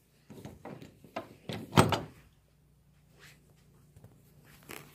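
Wooden door of an apartment unit being opened or closed, a cluster of creaks and knocks peaking in one sharp thud, then near silence with faint scrapes.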